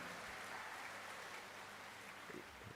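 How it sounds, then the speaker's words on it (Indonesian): An audience at a university anniversary lecture in Sumatra claps in a faint, distant, even patter of applause that holds steady throughout. "Tepuk tangan."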